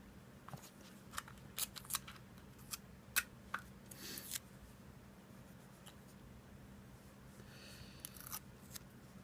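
Regular Scotch tape pulled from the roll and cut, a run of quiet crackly peels and short sharp snips scattered over several seconds, close and faint with no speech.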